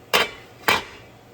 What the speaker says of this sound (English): put the top on it, and let it cook